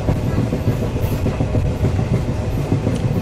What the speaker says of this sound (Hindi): ट्रेन में बैठा हूँ इस समय